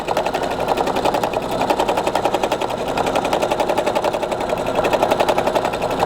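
A sewing machine running steadily for free motion quilting, stitching with a fast, even rapid-fire clatter that stays loud and close throughout, with no voices over it.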